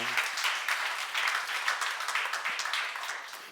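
A church seminar audience claps steadily in a hall, a dense, even patter of many hands lasting several seconds and ending abruptly.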